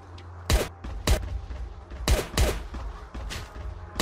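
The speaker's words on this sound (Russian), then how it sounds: "Пистолет с глушителем на изи убиваем сейчас" Muffled, thumping gunshots from a suppressed pistol in a game, five or six shots at irregular intervals over low background noise.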